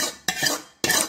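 A spoon scrapes and stirs through a pan of murrel fish gravy with sautéed ginger, garlic and cashews, in three short, close metallic scraping strokes separated by brief pauses.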